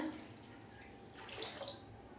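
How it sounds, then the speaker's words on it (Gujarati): About a litre of water is poured into a pot for boiling while a herbal hair pack is prepared. The quiet, splashy trickle rises briefly toward the middle. "હું એક લીટર જેવું પાણી નાખી રહી છું"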